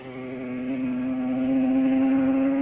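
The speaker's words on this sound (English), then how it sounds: "that is the sound of Joey Dunlop's Yamaha as he squirts it away" A Yamaha racing motorcycle at the 1980 Classic TT hums with a steady buzzing tone, its pitch edging upward as it pulls away from a mountain climb at a moderate distance.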